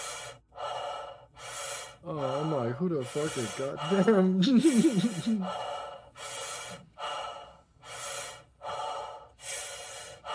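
Heavy, rhythmic breaths rasp loudly and close into a gaming microphone in a steady in-and-out pattern, with a brief exclaimed voice and a high warbling in-game sound partway through.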